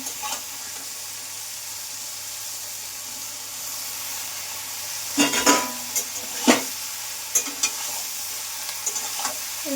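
Soybean chunks and green peas sautéing in a pan for a vegetarian soybean curry: a steady frying hiss runs throughout, with louder scraping stirs and clatters near the end, and no talking.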